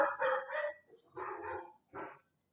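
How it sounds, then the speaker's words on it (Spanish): A dog barks three times in a quiet room, short bursts spaced about half a second apart, moderately close and clear with no talking. "Perdón, un perro."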